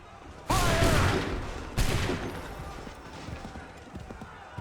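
Musket volley fired on command in Assassin's Creed 3, two loud crashing fusillades about a second apart, each decaying into a rolling echo with faint battlefield clatter after.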